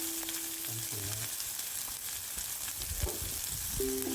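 Onion with green chillies and whole spices frying in hot oil for a Tamil potato masiyal, a steady broadband sizzle throughout with a few faint stirring clinks and low thuds, no voices.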